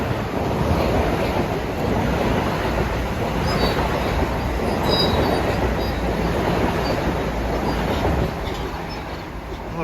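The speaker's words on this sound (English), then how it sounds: "Approaching is train 880 from Poughkeepsie to Grand Central." A Metro North train 880 from Poughkeepsie to Grand Central, with a Penn Central unit on the rear, rumbles steadily and loudly along the Hudson, with faint wheel squeals over the continuous roar.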